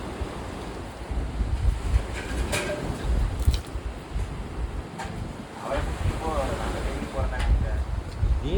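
Sea waves and strong wind at Dhanushkodi on the Indian coast make a continuous rushing roar, with gusts buffeting the microphone and surf swelling and washing throughout.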